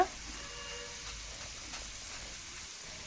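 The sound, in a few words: snacks frying in oil in a pan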